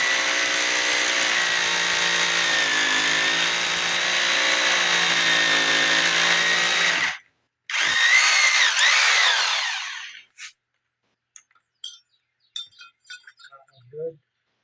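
A Bosch SDS plus hammer drill hammers into concrete outside for garage door prep, a loud, steady rattling run that stops briefly, restarts, then winds down, followed by scattered clinks and taps.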